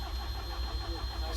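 A JCB JS220 excavator engine cranks steadily without catching, a continuous low mechanical churn that stays level and close throughout, with no voices.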